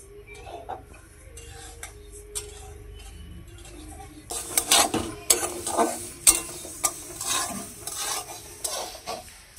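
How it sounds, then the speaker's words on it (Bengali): Moong dal being dry-roasted in a pan over medium heat, heard as a quiet start that gives way to repeated scraping and rattling stir strokes, close and fairly loud in the second half. "গ্যাসের আঁচটাকে মিডিয়ামে করে ডালগুলোকে আমি ভেজে নেব।"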